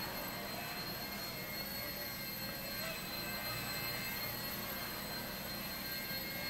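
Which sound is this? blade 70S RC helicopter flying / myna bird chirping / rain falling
blade 70S RC helicopter flying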